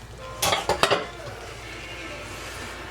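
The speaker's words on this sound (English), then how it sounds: "I'm just going to start stirring." Shrimp and hot pasta stirred in a pan, a quick cluster of metallic utensil scrapes and clinks against the pan, then a quieter low simmering background.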